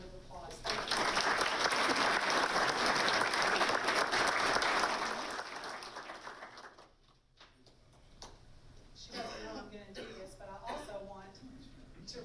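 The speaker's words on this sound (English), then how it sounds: "So please join me in giving them all a round of applause." Audience applause at an evening lecture on water and food security, a dense burst of clapping that fills the hall for about six seconds, then fades out as a speaker begins talking.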